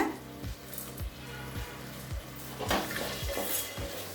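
Carrots, beans and green peas being sautéed in a pressure cooker for vegetable pulao, with a spoon scraping and clanking against the metal pot in a steady rhythm of about two strokes per second over a soft sizzle.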